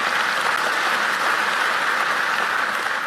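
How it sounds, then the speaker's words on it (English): Dense, steady applause from a crowd honoring the sheriff at a county State of the County address, loud and continuous for the whole stretch with no voices over it. "So please give the sheriff a round of applause."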